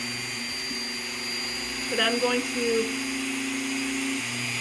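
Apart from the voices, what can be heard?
Dremel rotary tool drilling Lake Michigan beach glass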